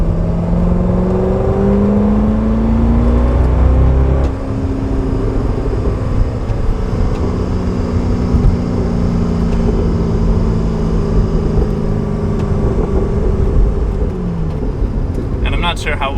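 A C6 Corvette engine and exhaust droning loudly up close, rising in pitch as it revs, then settling into a steady rumble with occasional faint pops.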